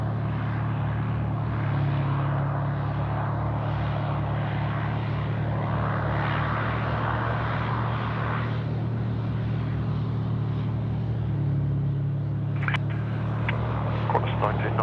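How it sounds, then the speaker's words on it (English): A Qantas airliner, a Boeing 737, takes off at night from runway 34 left at Sydney Airport, its distant engine roar a steady broadband rumble and hiss beneath a person talking throughout. "Qantas 1990, runway 34 left, takeoff."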